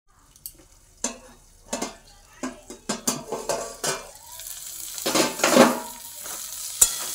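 Kalai greens and potatoes fry in a pan, scraped and stirred with a metal utensil in uneven clanks and scrapes over a soft sizzle, close by, growing busier toward the end.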